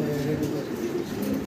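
A big pair of Andalusian-coloured pigeons coo softly and steadily at close range for a brief moment, with a voice speaking over them.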